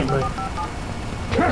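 In the video game Alan Wake, a telephone gives off short electronic dialing tones, one burst at the start and another near the end, each close and clear with no voices over them.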